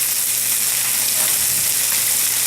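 Onions sizzle steadily in a hot pan for a cheese steak, a loud, continuous close frying hiss with faint stirring scrapes.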